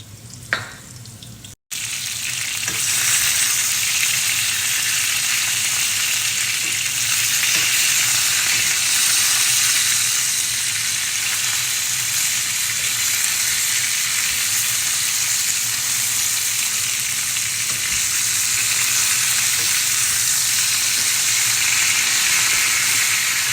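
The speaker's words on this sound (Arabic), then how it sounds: "حطيت زيت في الصينية وبنحمر الدجاج كله فقط تحمير" Chicken breasts frying in oil in a pan, a loud, steady close-up sizzle and crackle that holds continuously after a brief pause near the start, with no talking.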